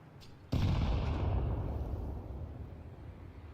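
A single heavy gunshot-like boom in a Counter-Strike match cracks loudly after a brief quiet lead-in, then rumbles and slowly decays over several seconds.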